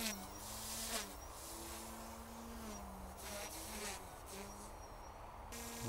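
A steady high-pitched motor whine drones continuously, wavering slightly in pitch like a small rotor spinning fast, fairly faint and unaccompanied: an Eachine E120S RC helicopter rotor spinning up in the AccuRC simulator.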